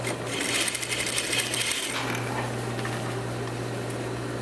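A sewing machine understitching the lining of a sleeveless garment, a close, steady mechanical whirring with rapid needle chatter and a constant motor hum, running continuously.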